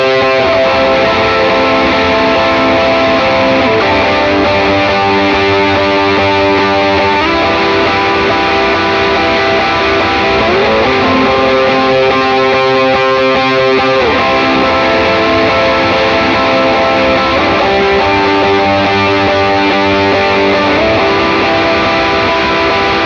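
Electric guitar strums worship-style rhythm parts through light overdrive with big reverb and long delay, a steady, washy wall of sustained chords played alone for the whole stretch.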